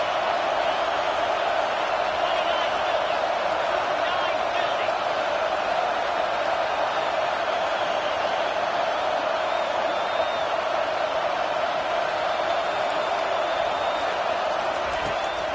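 A stadium crowd at a college football game roars in a dense, steady wash of distant cheering and noise, with a commentator talking over it throughout.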